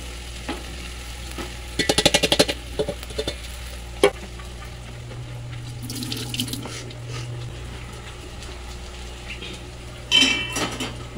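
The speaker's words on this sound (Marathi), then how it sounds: "आता मी ही वांगी एक एक करून यात टाकतो." Stuffed brinjals go into a hot pan one by one, producing a quiet, irregular sizzle along with clattering bursts and taps from utensils and the pan.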